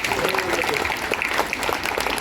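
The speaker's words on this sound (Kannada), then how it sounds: "ನಮ್ಮೆಲ್ಲರ ಜೋರಾದ ಚಪ್ಪಾಳೆ ಮುಖಾಂತರ ಧನ್ಯವಾದಗಳನ್ನು" Audience applauding in a Kannada sports award function honouring athletes, a dense steady clapping that carries through the whole stretch, with some voices mixed in.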